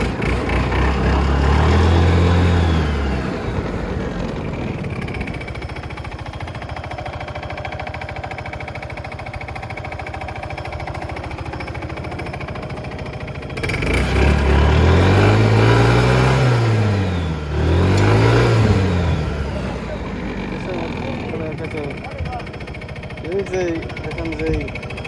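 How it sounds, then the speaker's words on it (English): A Honda Forza MF08 scooter with a faulty driven pulley sensor runs its engine close by, idling with a low hum and rising in two revving surges midway. Someone talks over it for most of the time. "As you can see, now the bike is running, but it is not going away."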